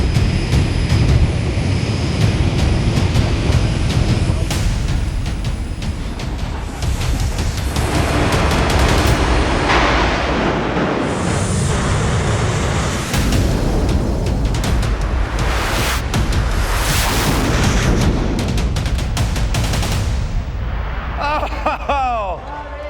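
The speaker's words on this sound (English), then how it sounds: "We got dueling jet cars." Deafening roar of two jet-powered drag cars racing at a Mustang car show, rising and surging in waves, with sharp bursts and pops, sustained and close throughout.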